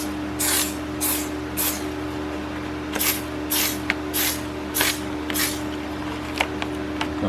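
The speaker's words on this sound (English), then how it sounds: "So again, we'll spray." Chain lube from an aerosol can is sprayed onto a motorcycle chain in a run of short, close hissing bursts, roughly nine of them with brief pauses between, set against a steady low hum.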